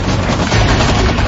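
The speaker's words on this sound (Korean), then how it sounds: "전장에는 총소리와 고함소리만이 난무했다" Dense gunfire fills a simulated war game exercise in South Korea, a continuous, loud barrage of overlapping shots with no clear gaps and no talking.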